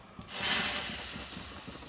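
Hot mustard-seed tempering with curry leaves is poured into a curry, setting off a sudden loud hiss that swells quickly and then settles into a steady, fading sizzle close by.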